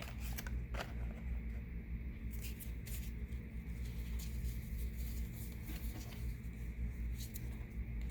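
Tarot cards being handled and shuffled, giving a steady, close run of soft papery riffles and light pattering flicks with no talking.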